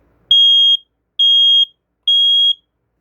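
First Alert 9120B battery and hardwired smoke alarm sounding its test signal: three loud, piercing electronic beeps of equal length, evenly spaced, close by with silence between them.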